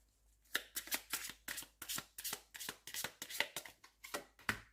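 Tarot cards drawn one at a time and set down, about a dozen crisp, close card snaps and slides in a quick, steady rhythm, with no talking.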